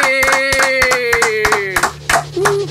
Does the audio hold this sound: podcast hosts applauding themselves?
yes